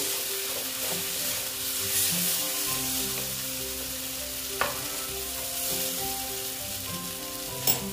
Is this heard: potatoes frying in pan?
yes